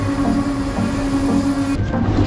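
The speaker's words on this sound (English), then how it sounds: "there's the train. The train's here." A train pulls into a station before dawn, a loud steady rumble with a droning hum and rhythmic wheel rattle that cuts off abruptly near the end.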